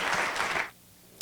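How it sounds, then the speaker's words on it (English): An audience bursts into applause for event sponsors at an evening lecture on controversial issues. Dense clapping lasts under a second, then fades to near silence before a brief sharp noise at the end. "Would you please give them all a round of applause?"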